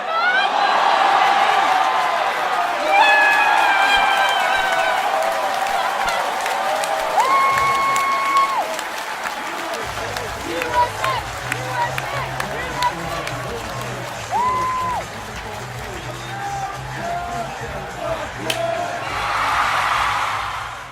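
Spectators at a golf event break into applause and cheers, with clapping and crowd noise rising and falling over about twenty seconds while voices chatter throughout.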